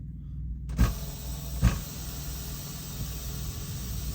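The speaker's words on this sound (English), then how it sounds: "Now that the valves are released, they're in, all that air is releasing" Truck air brake valves are pushed in, giving two sharp clunks less than a second apart, then a steady loud hiss of releasing air that continues, heard close without talk.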